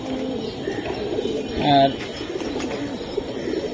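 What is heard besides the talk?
male pigeon cooing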